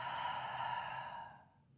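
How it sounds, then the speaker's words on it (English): A single slow exhale through the mouth during guided meditation, a soft breathy sigh heard up close that gradually fades to quiet. "And then through the mouth, the exhale."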